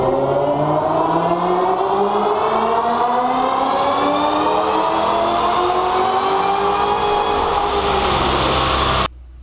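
A supercharged 5.4-liter Shelby revs hard on a dyno, its engine note climbing steadily and loudly for about nine seconds before cutting off abruptly, with no talking.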